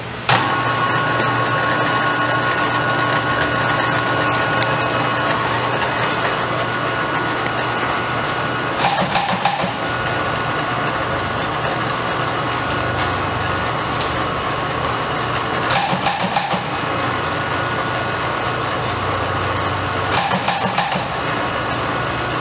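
A Count Numbermatic M121 numbering machine runs steadily while sheets are hand fed, a continuous mechanical whir and hum with brief louder clattering bursts recurring three times.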